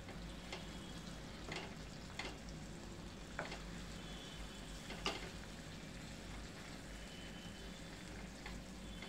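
Stuffed capsicum (shimla mirch) frying in plenty of oil after being flipped, giving a steady, dense sizzle with a few sharp crackles and utensil taps scattered through it, no voices.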